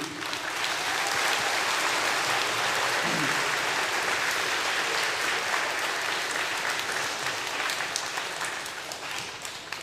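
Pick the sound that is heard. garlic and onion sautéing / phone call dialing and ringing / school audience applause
school audience applause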